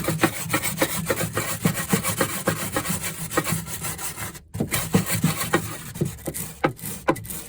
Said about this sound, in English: you just take a wire brush and we just attack the rust